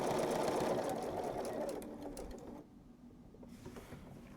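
A sewing machine runs close and loud, stitching binding onto a quilt, a fast steady whir that slows and stops, then a brief quieter burst of a few back stitches.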